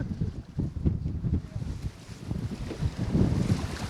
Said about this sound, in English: Are you getting good wind sounds?